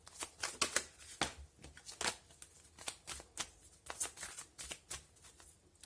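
Tarot cards being shuffled for a reading: a steady run of quick, crisp riffling bursts repeating about every half second, close and fairly quiet, with no talking.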